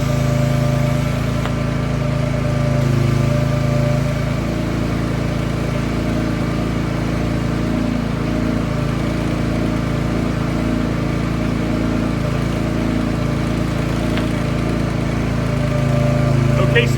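A softwash rig sprays through a red washdown gun with a steady, loud engine and pump drone layered with hissing spray. The noise runs unbroken from start to finish.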